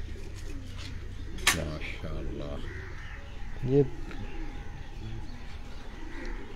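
Kasuri pigeons coo and call at a farmhouse loft, with a few brief bird calls rising over someone talking steadily nearby.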